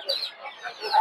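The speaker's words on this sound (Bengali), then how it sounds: "এগুলো সব হচ্ছে দেশি মুরগি" Desi chickens at a market stall, a brief burst of overlapping clucks and squawks at close range, with no talk.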